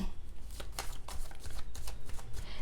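Tarot cards are shuffled and handled close by in a run of quick, crisp riffling flicks and soft slaps, irregular bursts over a couple of seconds with no voice.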